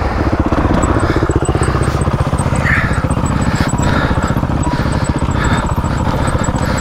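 An enduro motorcycle is ridden hard over rough ground in New Zealand, its engine pulsing in a fast, continuous buzzing rhythm close by, with a thin high whine running over it.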